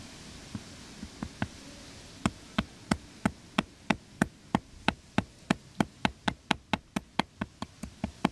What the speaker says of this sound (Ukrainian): Молотком обережно вигнемо половину в іншу сторону.